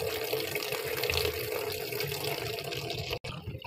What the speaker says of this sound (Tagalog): Lalagyan ko lang siya ng tubig.